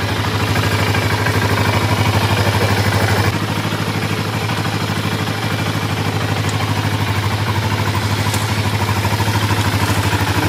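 A quad bike engine idles steadily while warming up, a close, continuous low throb with a slight clatter and a small drop in level partway through; no voices.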